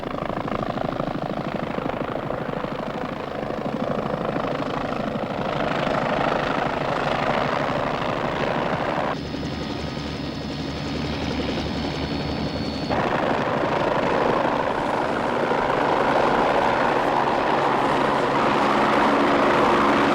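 A helicopter lands near a gothic castle on an island, its loud steady rotor and engine roar filling the whole stretch, with a brief shift in tone partway through and no talking.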